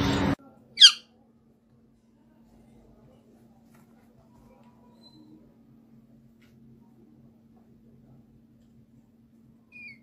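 Birds give one sharp, loud squawk just after the start, followed by near silence with a faint low hum and scattered soft rustling.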